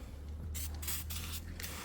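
Wax seal anti-rust treatment sprayed into the door of a Peugeot 205 GTi during a hinge repair: several close, hissing spray bursts in quick succession over a low steady hum.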